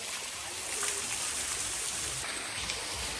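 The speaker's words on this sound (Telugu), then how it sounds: "ఆడ ఇంకో ఫౌంటైన్ ఉంది." Water pours continuously in a fountain at Mehrangarh Fort in Jodhpur, a close, even rushing hiss that holds steady throughout without speech.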